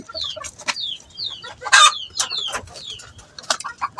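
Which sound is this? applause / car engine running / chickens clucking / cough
chickens clucking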